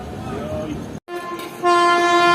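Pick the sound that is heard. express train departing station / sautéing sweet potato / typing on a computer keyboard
express train departing station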